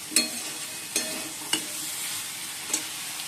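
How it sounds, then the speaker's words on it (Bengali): Okra, potato and pumpkin fry in a pan as a little water goes in, a soft steady sizzle punctuated by four sharp spatula scrapes against the pan, nearby and with no talking. "তারপর অল্প করে জল দিয়ে দেবো।"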